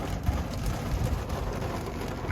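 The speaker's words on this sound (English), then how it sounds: "the rain just started coming down here" Rain pouring down on a car in Ocean Springs, Mississippi, on the Gulf Coast while someone sits inside, a steady dense patter drumming on the body and roof, continuous and fairly soft, with no talk.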